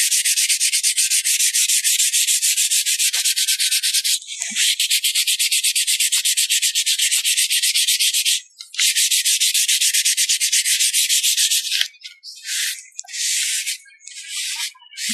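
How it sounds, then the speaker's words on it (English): Rapid back-and-forth scratching of a fine grain sanding pad on wood, following the grain, loud and close in long continuous strokes broken by brief pauses, then shorter bursts. "take the fine grain side of the sanding pad and sand that part back down again"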